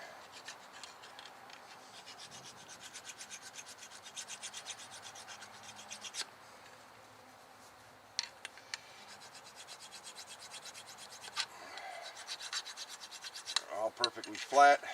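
Rust scaling scraped off a Subaru WRX rear brake hub, a 2017 model: steady close-up rasping and rubbing strokes with a few sharp metallic clicks, growing louder and busier near the end.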